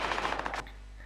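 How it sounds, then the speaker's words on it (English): Rapid burst of gunfire from the Watch Dogs video game, about half a dozen loud sharp shots in quick succession, then an abrupt cutoff into a quiet background hum. "You've got a gun, you could just shoot them."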